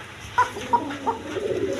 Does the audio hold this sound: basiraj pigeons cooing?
yes